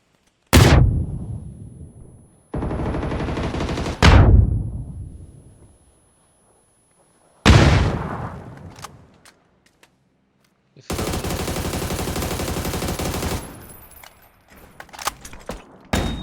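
Gunfire in the battle royale game PUBG comes as loud, close shots, each followed by a long echoing boom, with a few sustained rattling bursts in between and no talking over them.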